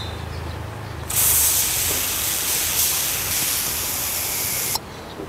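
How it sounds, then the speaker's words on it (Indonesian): A WD-40 spray can hisses out gas in one continuous, loud burst lasting a few seconds from close range, then cuts off abruptly, with no voices over it. "ketika saya semprotkan yang merek lain itu keluar cairannya sedikit, habis itu gasnya yang keluar"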